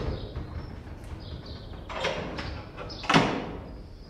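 A door opens in a radio crime drama set in a lord's house, with a few creaking, scraping slides and a final louder clack near the end, fairly quiet against faint background noise.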